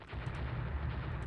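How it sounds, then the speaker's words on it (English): Naval gunfire booms from 3-inch guns in the Rule the Waves game against a light cruiser, a dense, continuous low rumble of overlapping shots with no voices. "I'm shooting 3-inch guns at him."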